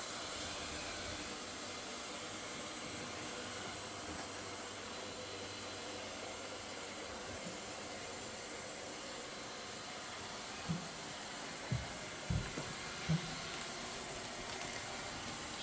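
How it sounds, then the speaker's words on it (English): A eufy X10 Pro Omni robot vacuum mops along floor edges with a steady, soft whirring drone, joined near the end by a few brief bumps and knocks. "It is mopping and it's cleaning the edges right now."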